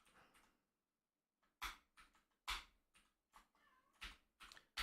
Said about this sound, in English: He's meowing like a good boy.